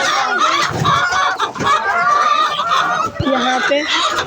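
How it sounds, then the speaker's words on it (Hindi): A flock of chickens clucking and squawking noisily at close range, busy overlapping calls throughout, with someone speaking over them. "सारी मुर्गियाँ इतना शोर मचा रही हैं।"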